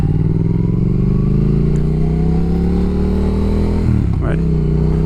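A Triumph Speed Twin's engine drones loudly and steadily through a Tec exhaust with a low, throaty rumble, its pitch climbing slowly before a sharp blip of revs near the end.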